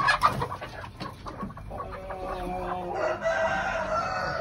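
Hen on a farm clucking close by, a few short throaty clucks at the start followed by softer, drawn-out vocal calls, with no talking.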